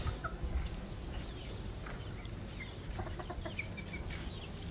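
Chickens in a backyard poultry pen give scattered soft clucks over a constant low ambient hum, moderately near, with a few brief higher calls.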